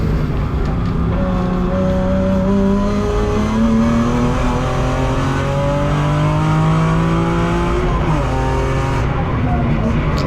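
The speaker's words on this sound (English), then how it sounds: "So this is a push lap. This is the first proper push lap." A BMW race car on a push lap during qualifying at Hampton Downs, its engine loud and close from the cockpit, rising in pitch through each gear and dropping on every shift, continuous under a driver's steady commentary.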